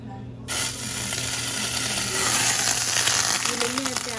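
Margarine sizzles in a hot frying pan while vegetable pasta is cooked, a steady bright crackle that starts abruptly and swells slightly, with faint low hum beneath.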